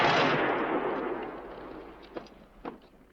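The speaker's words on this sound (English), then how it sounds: "Very good shooting." Gunfire from the 1964 western A Fistful of Dollars opens with a loud, booming shot that fades over a second or more. Two shorter, fainter pistol cracks follow later.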